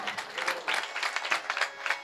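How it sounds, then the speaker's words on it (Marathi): An audience at a kirtan claps together, a dense patter of many hands at moderate loudness, continuing evenly for a couple of seconds. "त्यामुळे या वर्गासाठी टाळ्या वाजवा तुम्ही."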